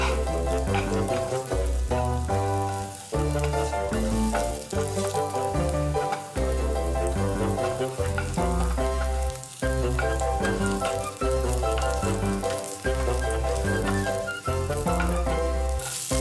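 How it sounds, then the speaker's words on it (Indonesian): Garlic sautéing in hot oil in a wok makes a continuous sizzle that sits under loud, rhythmic background music for the whole stretch, with no talking. "Tumis bawang putih hingga tercium aroma harum dan sedap dari bawang putih."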